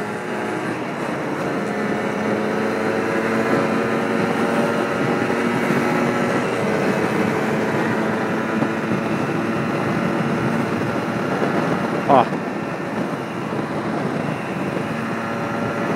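A Yamaha DT 125 motorcycle engine runs continuously and loud while riding, a steady droning tone with wind noise and one brief click near the end.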